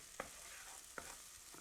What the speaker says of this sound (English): we're going to go ahead and cook up the onion a little bit